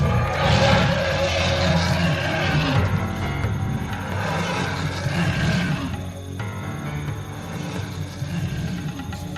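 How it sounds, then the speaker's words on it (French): A giant guard dog in the Hunter x Hunter anime lets out deep, growling roars: loud, rough and beast-like, rising and falling in several long surges that fill the scene with little pause. "C'est un chien de garde extrêmement bien dressé."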